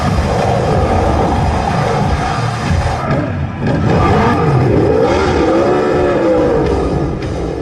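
A motorcycle engine revs and roars loudly and close for a getaway, rising and falling in pitch amid a dense, noisy background of crowd and clatter.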